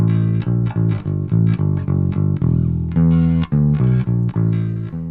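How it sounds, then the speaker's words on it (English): Electric guitar played through a Nembrini Audio BlackIce amp simulation with heavy drive distortion, a series of loud, sustained distorted chords with short rhythmic breaks, played alone with no talking. "Let's have lots of drive and just listen to that for a moment."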